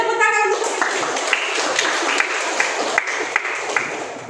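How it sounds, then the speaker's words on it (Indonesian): A classroom applauds, with scattered hand claps over a noisy room and a few sharper individual claps standing out. A short voice is heard at the start. "Ya, beri tepuk tangan untuk."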